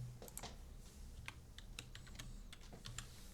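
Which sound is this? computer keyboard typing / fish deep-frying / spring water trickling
computer keyboard typing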